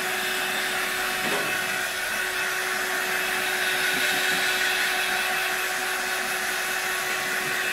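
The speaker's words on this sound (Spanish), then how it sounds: "ahora le vamos a dar un poco con un secador de aire para, quitar el polvo" A hair dryer blows dust out of an LED TV that has a fault causing it to switch itself off and on. It gives a steady, loud, close-up whirring drone with a constant tone throughout.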